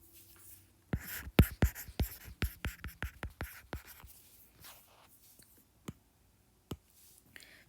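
Pen or pencil writing on paper while working a math ratio problem: a quiet run of scratchy strokes and taps in quick bursts, fading to a few sparse ticks, with no talking.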